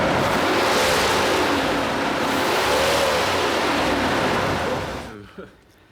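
A 1964 Cadillac engine revving as the driver steps on the gas, a loud, close roar rising and falling in pitch over a few seconds before cutting off abruptly, followed by a brief faint knock.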